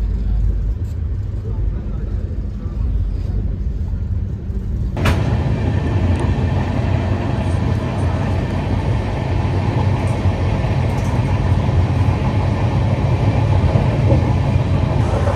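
Shatabdi Express passenger train running on rails near Dhanbad, heard from inside the coach as a steady loud rumble and rattle that grows louder and fuller partway through and continues to the end.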